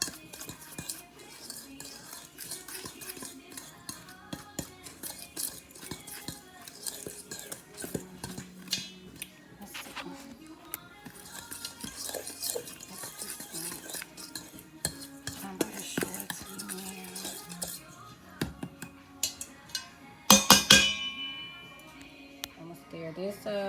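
A fork stirs powdery dry cake ingredients together in a bowl, giving soft scraping and light clinks against the sides, with a brief louder clatter near the end and quiet talk underneath.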